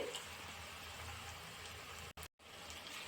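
Beaten eggs, five of them, poured into frying cabbage in a pan, giving a steady loud sizzle and bubbling that cuts out briefly near the end before resuming.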